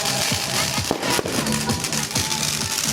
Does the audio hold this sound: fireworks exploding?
yes